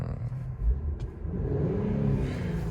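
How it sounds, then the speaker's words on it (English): Infiniti Q60 engine revving, a low rumbling rise in engine pitch heard from inside the car, steady and moderately loud over about two seconds. "Rev this up a little."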